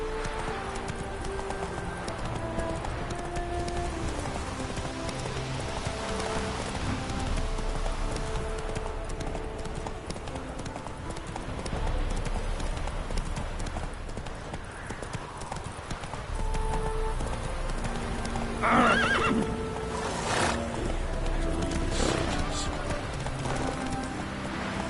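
Roach, Geralt's horse in the video game The Witcher 3, gallops with rhythmic clip-clop hoofbeats throughout, a brief whinny near the end, game music and ambience underneath.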